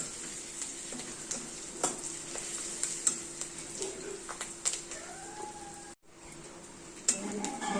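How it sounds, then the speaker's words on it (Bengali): Spices sizzle steadily in a hot pan in a home kitchen: whole green chillies, turmeric, cumin powder and coriander powder frying. The sound is a soft continuous crackle, with occasional stirring clicks and a brief dropout near the end. "ভাজা ভাজা করে নেবো"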